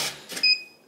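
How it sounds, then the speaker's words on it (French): The motor of an Aqara U200 smart lock on a door engages as it locks itself, a brief close whirring buzz with a thin high whine, preceded by two soft shuffling noises. "je ferme ma porte, et la serrure va automatiquement verrouiller"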